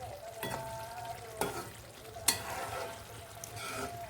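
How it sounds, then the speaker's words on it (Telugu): Tomatoes cook down in a pan for a Telugu amaranth curry, giving a soft, steady sizzle with a few brief stirring clatters and spoon taps. "టమాటాలు కూడా మగ్గుతున్నాయండి."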